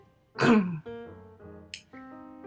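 A single sharp cough bursts out up close, followed by a couple of brief throat-clearing grunts in an otherwise quiet room.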